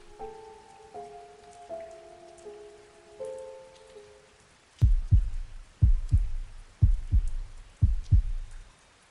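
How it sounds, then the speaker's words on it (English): A soft sustained tonal drone gives way to a loud, close heartbeat: six deep double thuds pulsing at a steady, slow rhythm with nothing else over them. "I heard a faint, rhythmic sound, like a heartbeat."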